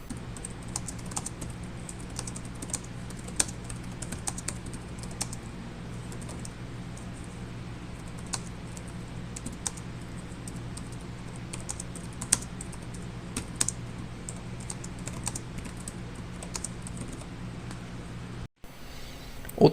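Typing on the quiet keyboard of an Acer Nitro 5 gaming laptop: soft, rapid, irregular key clicks tapping steadily for about twenty seconds over low background hum, with no talk.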